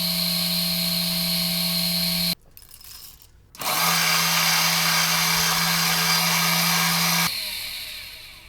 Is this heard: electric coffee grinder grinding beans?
yes